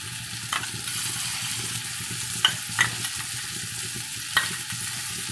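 Sour yogurt goes into a hot pan with ginger-garlic paste and is stirred, giving a steady broadband sizzle with a few sharp spoon scrapes and clicks near the middle and end, no voices.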